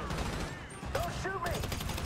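A heavy gun fires a rapid volley in Grand Theft Auto V: a dense, steady stream of shots under the game's ongoing action, with a faint voice now and then.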